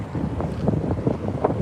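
Gusty wind buffets an outdoor microphone in short rough bursts, fairly loud and steady for a moment, with no voices.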